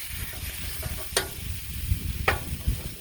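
Chorizo browns on a Blackstone griddle with a soft steady sizzle, under low clanking and scraping of a spatula and two sharp metallic clicks.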